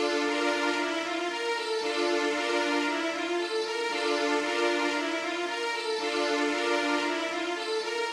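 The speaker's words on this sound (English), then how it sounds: "I'm using the Korg Triton VST plugin here" Retro 90s-style synth strings from a Korg Triton VST plugin in stereo, holding a sustained, bright chord pad that swells slightly throughout, steady and alone with no voice.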